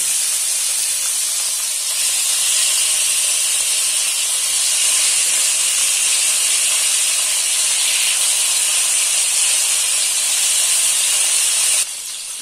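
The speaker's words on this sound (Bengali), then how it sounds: "আমি মাছটা ভেজে নিচ্ছি।" Fish fries in hot oil in a frying pan, giving a loud, continuous hissing sizzle that holds steady for several seconds before dropping off slightly at the end.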